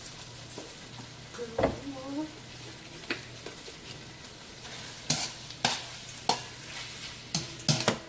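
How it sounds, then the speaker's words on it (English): Flour being stirred into sizzling vegetables in a pot for Jamaican-style brown stew chicken, with a steady low fry hiss under scattered spoon scrapes and knocks, one faint voice sound early on. "cook the flour into the vegetables about 2 to 3 minutes"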